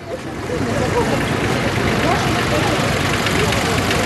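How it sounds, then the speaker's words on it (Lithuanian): A small homemade tractor engine idles at a tractor festival with a steady low rumble and knocking throb, loud and close; a voice talks over it. "Prašome prie savos gamybos Stasio traktoriaus."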